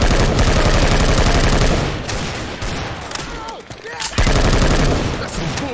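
Rifle fire in Left 4 Dead 2 rattles out in loud, rapid automatic bursts, a long stream of shots, a short lull with scattered noise, then another heavy burst that trails off.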